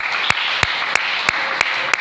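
Steady rhythmic clapping from a church congregation, sharp evenly spaced claps about every third of a second over a soft background murmur, as if clapping in time.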